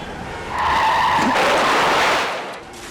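A car skids after a tire blowout on a busy highway side road, a loud drawn-out tire screech swelling over about two seconds and then fading, with no talking.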